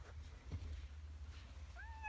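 A cat meows faintly in the distance near a backyard hole dug through dried clay and sand, a short rising cry heard once toward the end over a steady low rumble.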